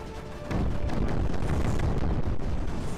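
A turret in Creeper World 4 keeps firing, a dense roaring barrage of booming blasts that swells suddenly and holds loud and steady.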